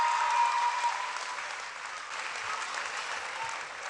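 An audience at a school education announcement applauds with a full, dense clapping that starts loud, then eases slightly and carries on steadily.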